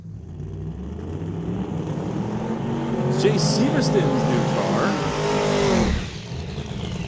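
A 1950s Corvette pro mod drag car out on a test pass, its engine a loud, sustained roar that rises and holds before cutting off sharply near the end, with someone talking over it.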